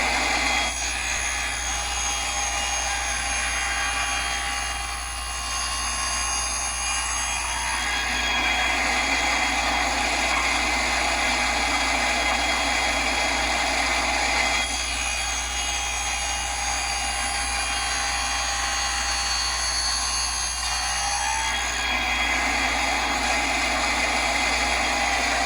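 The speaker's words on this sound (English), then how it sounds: "Now I've set up to do a 7-inch dado, a 1/2 of an inch deep, and I flip my block around so I can push it through." A saw cuts a half-inch-deep dado across a wooden block for beehive frame side bars, making a loud continuous whining roar that stays steady for the whole stretch, with slight dips as the block is pushed through and no voices.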